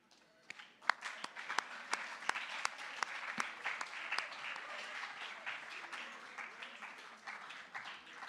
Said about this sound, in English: Okay, give them a round of applause.